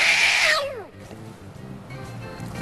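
A cat meows loudly and close up, one drawn-out high cry that slides downward and fades, followed by quieter room noise.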